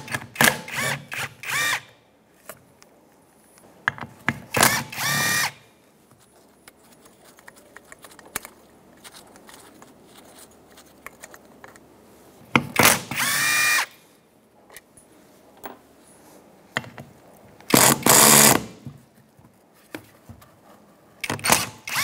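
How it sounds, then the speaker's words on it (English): A small impact gun with a 10mm socket removing the fan clutch bolts on a 2007-2017 Ford Expedition 5.4L V8, with four short, loud rattling bursts spaced apart and quiet handling noises between them. "I'm using a 10mm socket in my small impact gun."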